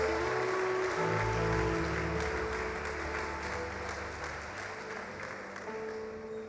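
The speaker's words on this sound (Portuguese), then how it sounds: "Você pode dar uma salva de palmas ao Senhor Jesus." Church congregation applause, a steady wash of clapping under sustained organ or keyboard chords, gradually tapering slightly over several seconds with no speech.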